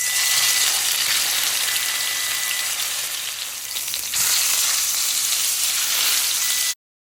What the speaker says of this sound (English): Alright, sear the steak.